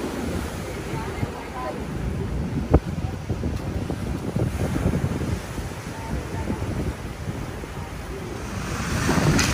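Sea waves wash in along a shore cluttered with floating wood, bamboo and plastic trash, a steady broad rush with wind buffeting the microphone throughout.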